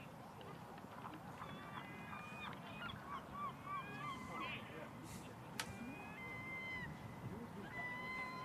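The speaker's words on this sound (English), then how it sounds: "Very loud seagulls doing well in through the effects mic" Gulls calling loudly over a cricket ground, a run of repeated squawking cries over a steady crowd and background murmur, with a sharp knock partway through.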